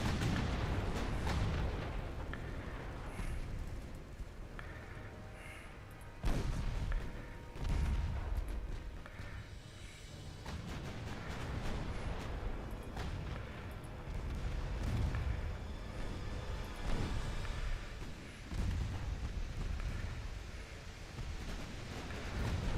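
Naval artillery fire in Ultimate Admiral Dreadnoughts, deep booming salvos and rumbling blasts over a constant windy roar, loud and dense throughout with no talk.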